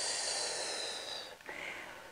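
Breathing in and out during a dance technique exercise, a long airy breath followed by a brief pause and another drawn breath, close and hissy with no talk.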